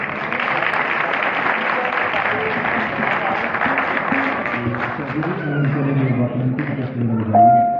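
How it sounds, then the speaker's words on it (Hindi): Audience applause at a Hindi-language music tribute event, a steady wash of clapping that fades as a voice begins speaking over it. "आपकी तालियों का बहुत शुक्रिया।"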